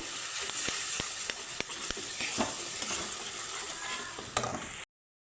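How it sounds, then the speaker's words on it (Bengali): A paste of turmeric, cumin and coriander powder sautés in a pan, with a steady soft sizzle under repeated sharp scraping clicks of a spoon stirring against the pan. "হলুদ গুঁড়ো এক চামচ জিরার গুঁড়ো চামচ ধনিয়ার গুঁড়ো দিয়ে মশলাটাকে আমি ভালোভাবে কষিয়ে নেব"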